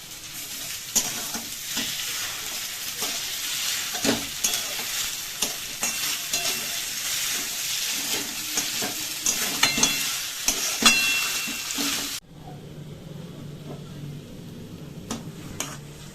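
Boiled potatoes frying in a pan with fried beetroot and carrot for vegetable chops, close sizzling with spatula stirring and clinks, then the sizzle drops off abruptly near the end, leaving quieter pan sounds.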